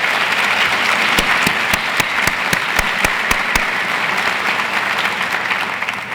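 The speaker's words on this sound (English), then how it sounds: "Let's give them another round of applause." Audience applause at a university State of the University address, a steady wash of clapping from a sizable crowd with several louder individual claps standing out early on, fading slightly toward the end.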